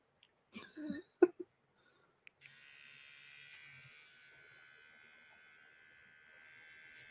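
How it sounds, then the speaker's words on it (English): An electric shaver buzzes steadily and quietly at close range for several seconds after a few brief vocal sounds and a cough or throat clearing. "You want me to stop shaving?"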